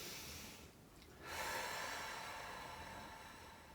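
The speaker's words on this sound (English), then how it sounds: "take a deep breath in." One long, deep inhale through the nose, rising in a soft airy rush and held as a faint steady breath, quiet and close with no talking.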